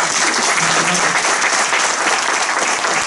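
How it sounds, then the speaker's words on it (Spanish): Loud, dense audience applause at a talk about the thinker Berlin, a steady wash of many hands clapping close and unbroken for about three seconds with no voices. "aplauso"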